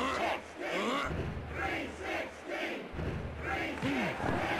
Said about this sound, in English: The capacity crowd comes alive. I can hardly hear myself talk.